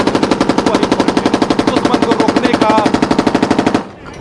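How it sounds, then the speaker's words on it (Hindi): A machine gun fires continuously in rapid, evenly spaced bursts from an Indian Coast Guard vessel, loud and close, before cutting off abruptly near the end. "इंडियन कोस्ट गार्ड की तरफ से लगातार यहाँ पर फायरिंग किया गया"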